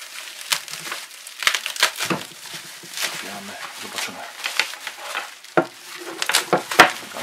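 Plastic foil wrapping on new speakers crinkles and rustles up close in irregular bursts of crackling as it is handled and pulled apart.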